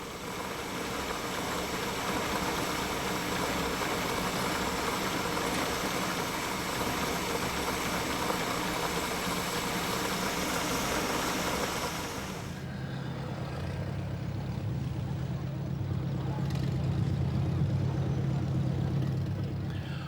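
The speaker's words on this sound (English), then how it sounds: "the smoothness with which the designers endowed the engine of this almost unrestored car is most impressive." The engine of a vintage, almost unrestored Horch car idles steadily with a low, smooth hum and light mechanical texture, close by, with no talking.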